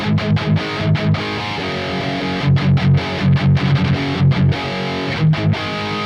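High-gain distorted electric guitar through a Neural DSP Archetype Nolly crunch amp model with a boost pedal, loud chugging palm-muted riffs in choppy rhythmic bursts with short gaps, played alone.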